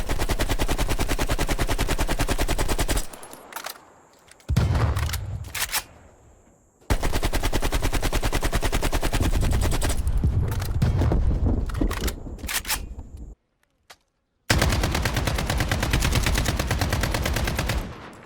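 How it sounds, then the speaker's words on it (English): AK-47 gunfire from the Call of Duty games Black Ops Cold War and Modern Warfare, long loud bursts of rapid automatic fire broken by short pauses and a few quieter gaps. "All you gotta do is take 5 seconds to compare the AK-47 in Cold War and the AK-47 in Modern Warfare"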